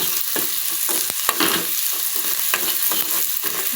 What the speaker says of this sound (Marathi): आता त्याच्यामध्ये आपण 1 चमचा मीठ टाकू आणि मिक्स करून घेऊ